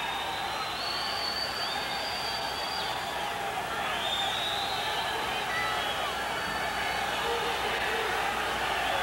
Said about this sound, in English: Crowd starting to hush into almost just a murmur now as they're waiting for one more big blow to get fired up again